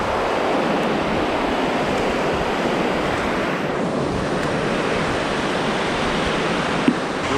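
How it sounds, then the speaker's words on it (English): River water flowing smoothly near a stand-up paddleboard launch makes a close, steady, continuous rushing wash with a hint of wind, unchanged throughout and with no talk. "The water is flowing over there so nicely and smooth."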